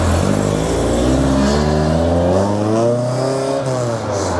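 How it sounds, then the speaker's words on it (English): A Mk2 Ford Escort engine revs up and holds a loud, rising drone, the pitch climbing and wavering as the throttle is worked, close and without talk. "Mk2 Escort started up"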